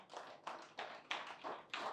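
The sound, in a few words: workshop audience clapping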